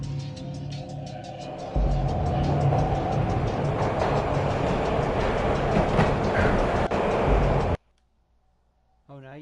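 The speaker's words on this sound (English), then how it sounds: "This was my second train ride of the night." A train ride in the Max Payne video game: rhythmic clickety-clack and heavy rumbling of rail cars for several seconds, then an abrupt cut to near silence with a faint tone.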